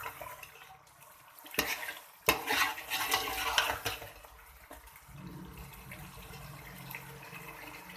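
Bhuna gosht mutton frying in oil in a pot, stirred with a spoon, giving a soft sizzle with a few sharp metallic knocks and scrapes against the pot, fairly quiet and close, no talking.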